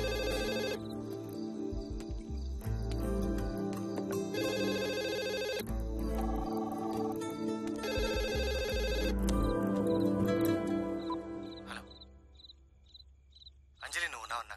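A landline telephone rings in a scene from a Telugu comedy film, its repeated bell bursts mixed with background music and voices before fading near the end.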